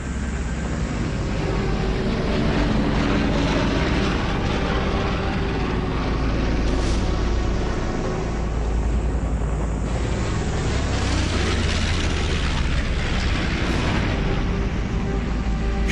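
Japanese bombers and torpedo planes attack the battleships Prince of Wales and Repulse in a reconstructed battle, heard as a dense, continuous roar of aircraft engines and explosions that stays loud and sustained throughout.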